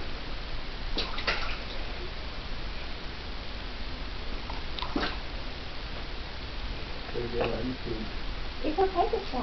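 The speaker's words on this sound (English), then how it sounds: "He likes splashing." A baby splashes bathwater in a bathtub, giving intermittent slaps and splashes over a steady watery background hiss.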